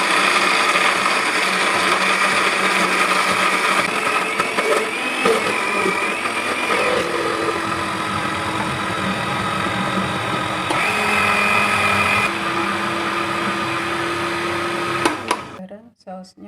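A blender whirs loudly and steadily while pureeing peanut sauce with warm water for chicken satay, its motor pitch shifting a little before it cuts off near the end.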